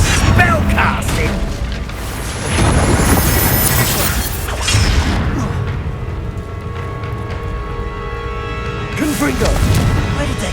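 Confringo fire spell blasting in the game Hogwarts Legacy, with booming, crashing impacts over a dense battle din and a second burst near the end.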